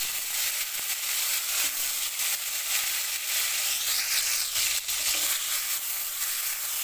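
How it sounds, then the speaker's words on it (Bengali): Chopped tomatoes fry in a pan with a loud, continuous hissing sizzle, broken now and then by soft stirring scrapes, with no voices. "টমেটোটা দিয়ে একটু ভাজা ভাজা করে নেবো"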